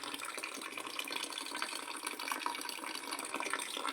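Continuous trickling and gurgling of water running down through a small hole in a can, steady and close, with no talking.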